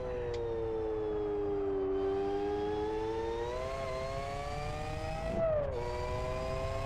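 A race car engine in the Live For Speed racing game holds a steady, loud, buzzing tone that rises and falls, with one sharp dip and lift near the end as a gear changes and the engine comes onto the overrun.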